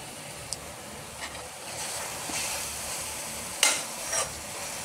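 A spoon stirs baingan bharta with roasted tomatoes and fresh coriander in a pan, a soft sizzling hiss with a few light scrapes and clinks, quiet and steady, no voices.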